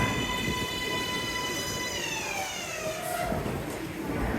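A Brooklyn-bound New York City subway train from 8th Avenue rumbles steadily along the track, with high metallic whining and squealing tones from the wheels over a constant roar.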